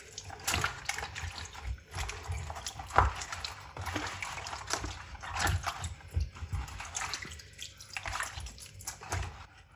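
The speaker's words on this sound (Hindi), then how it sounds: "पानी के अंदर ना 1-2 मिनट रख देंगे इनको।" Cut bitter gourds being dropped and moved around in a bowl of water in a home kitchen, irregular splashes and sloshing with small knocks, close and moderately loud with quieter gaps between bursts.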